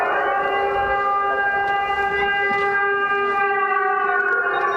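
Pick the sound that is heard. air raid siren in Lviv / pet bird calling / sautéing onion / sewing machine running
air raid siren in Lviv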